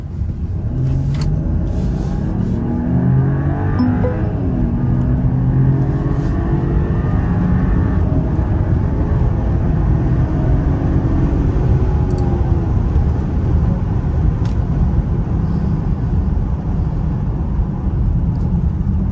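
A 2024 Mercedes GLS 450 SUV with 375 horsepower accelerates at full throttle on back roads in the Florida Everglades, a loud, steady, deep engine rumble with rising tone early on, heard from inside the cabin and continuing unbroken.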